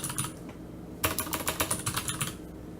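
Computer keyboard typing in Emacs: a short burst of keystrokes, a brief pause, then a quick even run of close, crisp key clicks.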